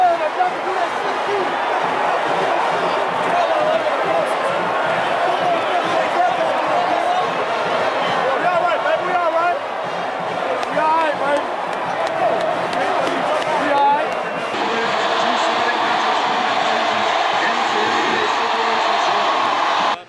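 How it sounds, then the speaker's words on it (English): A stadium crowd at an Alabama versus Auburn college football game at Jordan-Hare Stadium roars in a dense, steady wall of cheering and noise that carries on without pause, loud throughout. "The crowd was delirious."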